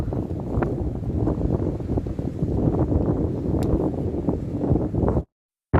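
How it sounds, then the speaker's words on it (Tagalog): Strong wind buffets the microphone in a continuous low roar on a hike on Po Toi Island, ending abruptly in silence. "sobrang lakas ang hangin guys."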